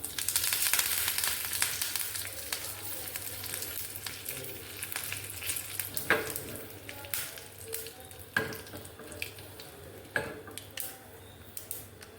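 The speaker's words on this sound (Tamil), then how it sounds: "கடுகு பற்றி அடிக்குது. கருவேப்பிலை வச்சு போடலாம்." Mustard seeds splutter and crackle in hot oil as curry leaves go in for a tempering, a close, continuous sizzle punctuated by sharp pops.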